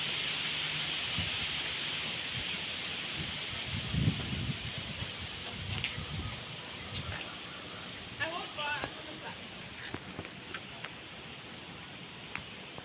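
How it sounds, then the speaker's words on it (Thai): Strong wind gusts across an outdoor temple ground, buffeting the microphone with a steady rushing roar and rustling, while someone talks over it. "โอ้ลมแรงมากเลยครับผมทางนี้"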